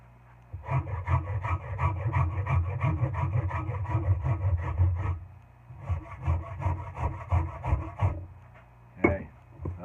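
A rasp works wood off a racing axe handle to fit the head snugly, making rapid repeated rough scraping strokes in two long close bursts, with a brief sharper knock near the end.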